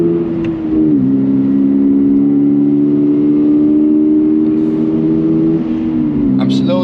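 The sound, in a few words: car engine revving on Nürburgring lap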